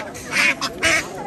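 Ducks for sale at a busy village market quack twice in loud, nasal bursts close by, with faint market chatter and noise continuing underneath.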